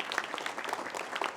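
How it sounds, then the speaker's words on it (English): Dense applause from an audience at a business gathering, a steady wash of many hands clapping with no pauses, fairly faint and distant throughout. "Big round of applause"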